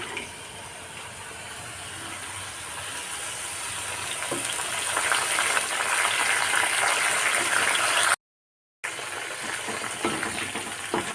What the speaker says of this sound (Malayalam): മഞ്ഞൾ വെള്ളം ഒഴിച്ചു കൊടുക്കും